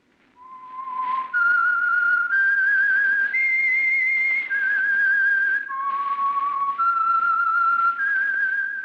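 A clear whistled melody, the theme of the old radio drama The Whistler, with sustained, sliding notes stepping up and down, loud and close, with no talking.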